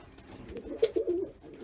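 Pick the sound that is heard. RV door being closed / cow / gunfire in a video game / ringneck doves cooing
ringneck doves cooing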